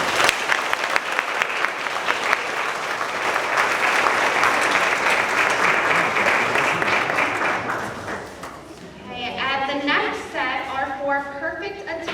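An audience at a 2018 fifth grade moving up ceremony claps steadily and loudly for several seconds, the applause fading as a voice starts speaking.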